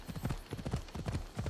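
Rhythmic clip-clop of horse hooves trotting at a steady pace in the video game Assassin's Creed Odyssey, close and fairly loud, with no voices over it.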